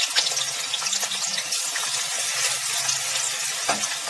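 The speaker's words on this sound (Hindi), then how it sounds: "अब डाल देते हैं और पहले आलू तलेंगे" Small-cut potatoes frying in a pan over medium-high flame, a dense, even hiss of sizzling oil with faint crackles, close and continuous, no voices.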